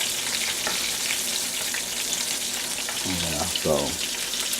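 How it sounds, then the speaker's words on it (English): Shrimp frying in a pan give a constant close crackling sizzle, and a person speaks briefly near the end over it. "this is our shrimp, and it's cooking really good"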